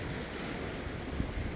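Steady broadband surf from ocean waves along the North Shore at Bailey's Bay, Bermuda, a continuous wash with some wind rumble and no voices.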